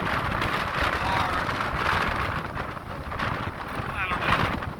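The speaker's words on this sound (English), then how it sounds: "on the Sonoma coast, and the wind is whipping" Strong wind gusts buffeting the microphone on a Sonoma coast beach with heavy surf, a dense roaring wash rising and falling in gusts.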